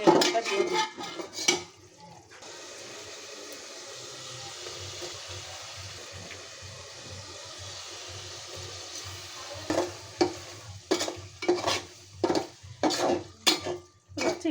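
Prawns tipped into cooked spiced masala in a pan for a prawn curry with greens and potato, a loud sizzle after a few clanks, then repeated metallic scrapes and stirring knocks.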